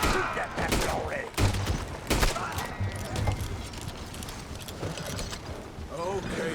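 Gunfire in Red Dead Redemption 2, a volley of loud cracking shots close by in a busy game scene, with hooves and other game noise around them.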